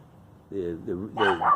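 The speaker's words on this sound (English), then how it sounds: "doing her little barking thing" A dog barks in three short, close bursts, each a quick yappy call with a bright, slightly whiny tone, the last one louder.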